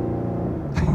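A 2021 Lexus IS 350 F-Sport with its V6 is heard briefly from inside, a steady low engine hum that swells slightly near the end as the throttle opens.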